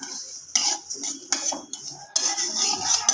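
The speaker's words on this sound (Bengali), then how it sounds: "মুগ ডাল ভাজা হচ্ছে, মুগ ডাল দিয়ে খিচুড়ি হবে আজকে" Mung dal dry-frying in a pan for khichuri, stirred with a metal spatula that scrapes and clinks against the pan in repeated close strokes.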